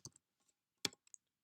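Quiet clicks of keys on a computer keyboard, a few isolated taps and then a short cluster, close and faint with no talk.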